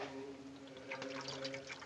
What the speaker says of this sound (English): Pour it over my hands.